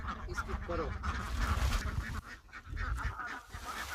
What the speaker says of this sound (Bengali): এই হাঁসগুলো তোমার জন্য ওয়েট করতেছে বন্ধু, বুঝলে?